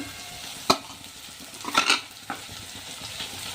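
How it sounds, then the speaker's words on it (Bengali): Onions, chillies and chopped garlic frying in hot oil for veg momos, a soft steady sizzle broken by a few sharp clinks and scrapes of stirring, up close with no talking. "তেলের মধ্যে আমি দিয়ে দেবো পেঁয়াজগুলি, লঙ্কাগুলি, রসুন কুচি"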